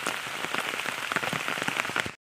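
Dense, heavy monsoon rain in Konkan pattering hard on a surface close by, a continuous drumming roar that cuts off abruptly at the end.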